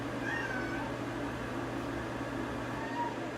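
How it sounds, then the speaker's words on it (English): A cat meows faintly in the background over a steady low hum, with a drawn-out cry near the start and another softer one toward the end. "Do you guys hear her meowing?"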